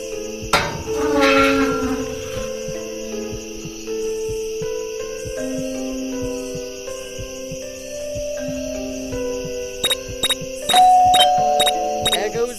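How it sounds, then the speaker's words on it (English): A doorbell rings inside the video game Scary Teacher 3D: a ding-dong chime sounds early, then tones sustain under game music, and a rapid series of bright repeated rings follows near the end. "There goes that stupid bell again."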